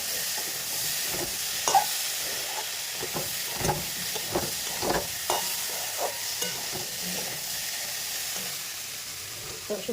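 Curry being turned over as it fries in a pan, a steady sizzle with scattered clinks and scrapes of a utensil against the metal throughout, close and moderately loud with no talking.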